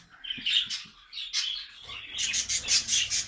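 Budgerigars chirping in a bird room, a busy mix of near and farther chirps, warbles and squawks, growing into a rapid chattering run toward the end.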